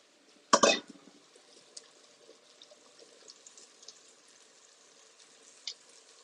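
Pork belly omelette mixture hitting a hot pan, a sudden loud sizzling splash that quickly fades to a faint, steady crackle with scattered small pops.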